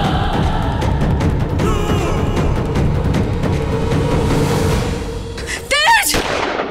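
Gunfire in a Bengali TV drama scene, sustained loud bursts under a dense dramatic soundtrack, followed near the end by a sharp crack and a high rising tone.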